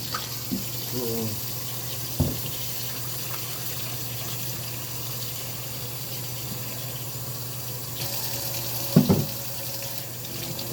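Water runs from a kitchen tap while dishes are washed, a soft, steady stream with a few clinks and knocks of pans and dishes scattered through.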